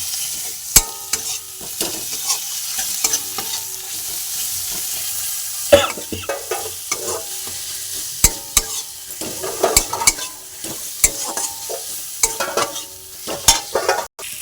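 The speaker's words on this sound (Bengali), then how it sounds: "এবার আমি এর মধ্যে দিয়ে দেবো টমেটো কুচি, দিয়ে মশলাটা ভালো করে ভেজে নেব" Spice paste with chopped tomato fries in a pan for a pointed gourd, potato and prawn curry, giving a steady soft sizzle. A spatula scrapes and knocks against the pan in sharp irregular strikes.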